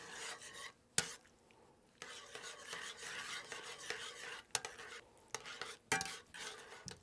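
A utensil rasps and scrapes around a pan as vinegar and butter are worked into a chicken Marsala sauce, with quiet stretches broken by several sharp clinks against the pan.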